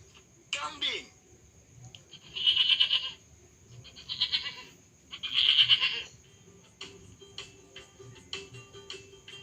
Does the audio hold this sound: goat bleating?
yes